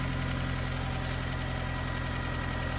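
A Honda CR-V 2.0L engine idles steadily just after start-up, a continuous low, even rumble with a regular pulsing beat that holds constant throughout, with no voices.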